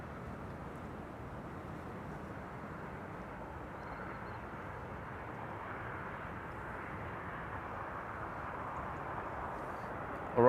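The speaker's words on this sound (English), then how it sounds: "This is KLM flight 1269 to Copenhagen. A737-800." A KLM Boeing 737-800 bound for Copenhagen at Amsterdam Schiphol Airport gives off a steady, distant, broadband jet engine roar that holds evenly throughout.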